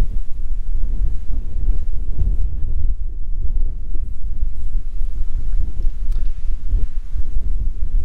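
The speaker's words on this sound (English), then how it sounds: "It sure is windy out here today." Strong wind buffeting close to the microphone, a constant low rumble and roar throughout with no let-up.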